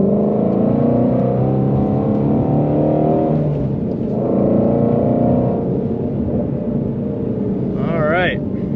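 A Ford Mustang Shelby GT350R in sport mode pulls under acceleration, its engine pitch climbing in steady ramps, close and strong, with a voice talking over it and a brief high squeal near the end.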